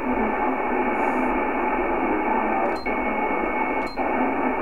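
Steady hiss of 28 MHz band noise picked up on a three-element homebrew Yagi beam, a continuous static wash with a couple of faint brief clicks, no voices.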